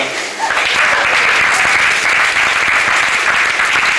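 A dense wash of audience applause rises after a brief pause and holds steady and loud, a crowd at a 1988 David Letterman show at Fielder.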